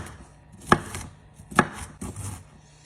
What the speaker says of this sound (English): I'm just going to start roughly chopping these until they are nice and bite-sized pieces